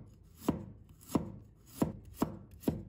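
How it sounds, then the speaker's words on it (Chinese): A knife chops through peeled fresh ginger on a cutting board, five evenly spaced, crisp thuds close up with no voices. "把生姜切成片"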